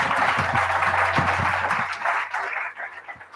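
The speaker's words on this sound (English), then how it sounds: "We really need to give a round of applause to Xenia" Applause from an audience at an Isadora Werkstatt 2016 keynote honoring an organizer, a fairly close burst of clapping that is strong at first, then thins out and tapers off, with a low steady hum underneath.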